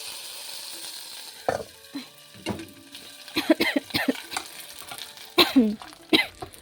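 Spices crackle and sizzle in hot oil as a tempering is added for fish paturi and khichuri, with several sharp bursts of frying and stirring heard up close and no talk.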